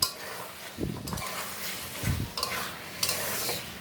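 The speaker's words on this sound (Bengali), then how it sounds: "আমি এখন একটু মশলা ভাজা মশলা দিব এখানে আছে জিরা ধনিয়া এলাচ দারচিনি সব একত্রে ভেজে গুঁড়ো করে নিছি" Meat bhuna stirred in a pan with roasted ground cumin, coriander, cardamom and cinnamon, a few scraping spoon strokes against the pan over a light steady sizzle, close by.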